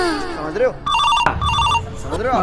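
A telephone rings twice in short electronic trills, loud and close, with people talking before and after the rings.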